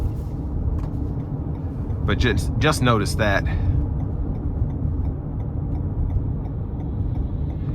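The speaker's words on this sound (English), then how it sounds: "the tires are just a little loud on this back road here" Steady low road rumble and tire roar come from a 2023 Toyota Highlander XLE 2.4T rolling over an old, worn back road, heard from inside the cabin, with a brief spoken remark partway through.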